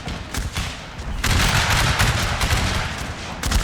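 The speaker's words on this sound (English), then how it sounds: "they're firing at them through the woods here" Musket volleys crackle in an American Civil War battle in Total War Shogun 2, rolling gunfire from lines shooting through woods, continuous and dense with heavier bursts of shots layered together.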